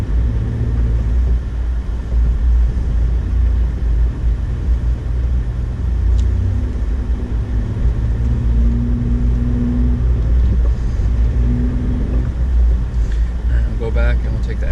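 A 2008 Honda Ridgeline truck drives through snow in a New York blizzard. Its engine and tires make a steady, loud low rumble that runs without a break, with people talking over it inside the cab.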